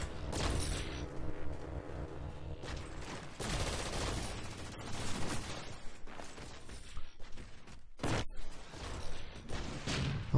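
Gunfire crackles in Halo 4 during an Infinity Slayer match on the Abandon map, quiet bursts of rapid shots and mechanical clatter spread throughout, with a few sharper cracks near the end.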